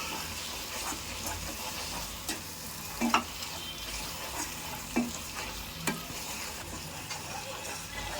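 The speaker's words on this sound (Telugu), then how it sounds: "ఈ విధంగా మిక్స్ చేసుకుంటూ కలుపుకుంటూ ఉండాలి." Gongura chutney is stirred in a pan, giving a quiet, steady frying sizzle with a few soft scrapes and knocks of the spoon scattered through it.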